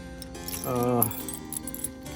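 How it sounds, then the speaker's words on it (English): Bunches of Cat and John Deere equipment keys jangle and clink close by at a solar farm at night, light metallic rattling over a steady hum, with a person talking nearby. "Yeah, we got all the cat keys, man. John Deere keys,"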